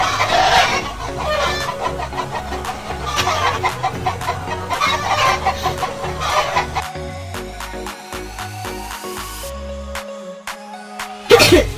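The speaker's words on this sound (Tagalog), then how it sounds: "Marami talaga kaming mga manok" Backyard flock of chickens clucking steadily with a rooster crowing, close and loud, continuous busy farmyard chatter with a sharp burst at the end.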